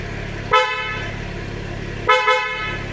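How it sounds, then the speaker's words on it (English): A BMW X3M's horn is sounded from a newly installed G80 LCI steering wheel, two short loud toots spaced about one and a half seconds apart, close by and with no talk. "One more thing I want to mention about the steering wheel is how easy it is to honk."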